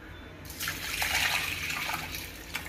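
Tamarind water poured into a pot while making rasam, a steady splashing pour that starts abruptly and runs on close by with no talk.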